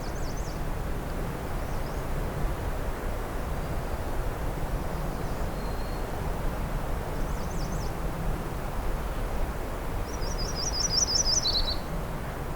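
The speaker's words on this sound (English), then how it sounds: "There's the black-throated green warbler as well." Black-throated green warbler in a black and white spruce woodland in June: several faint, buzzy phrases scattered across the stretch, with one louder trilled burst near the end, all over a constant breezy background hiss.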